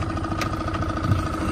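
A boat motor runs steadily on the water in the Canadian forest, a close, continuous mid-pitched engine drone with slight fluctuations and no talk.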